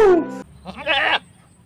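A goat lets out a loud, wavering bleat up close, followed by a second rougher, shakier bleat after a short pause.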